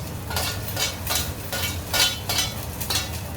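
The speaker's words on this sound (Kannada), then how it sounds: "ಆಯಿಲ್ ಹಾಕೊಂಡು ಫಸ್ಟು ಕ್ಯಾಪ್ಸಿಕಮ್ ಬೇಯಿಸ್ಕೊಳ್ಳೋಣ" Chopped capsicum stirred and frying in oil in a pan at home, a steady soft sizzle under a regular rhythm of spatula scrapes against the pan, with no talking.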